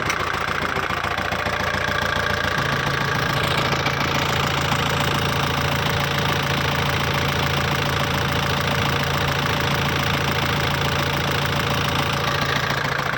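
Kubota L5018 tractor from 2018 with its diesel engine idling, a loud steady knocking rumble with an even rhythm, close and unbroken for the whole stretch.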